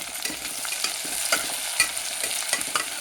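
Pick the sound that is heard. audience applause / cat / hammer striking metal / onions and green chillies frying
onions and green chillies frying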